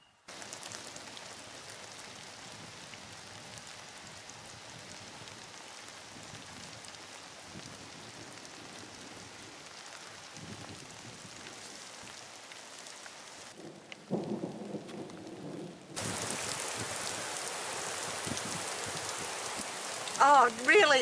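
Rain falling steadily in the Warrumbungles after the Wambelong bushfire, a dense continuous hiss that grows louder and heavier toward the end, with rumbles mixed in.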